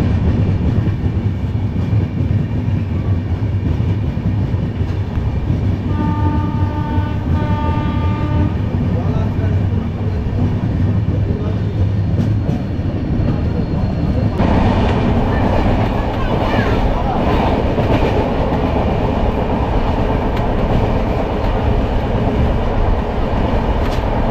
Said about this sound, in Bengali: আমাদের ট্রেন কিন্তু পার করলো উলুবেড়িয়া